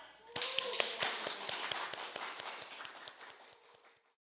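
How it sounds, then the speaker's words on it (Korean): An audience of elderly listeners at a senior college event in Jeonju claps to welcome a trot singer, steady close claps building quickly then tapering off over about four seconds. "박수로 맞이해 주세요."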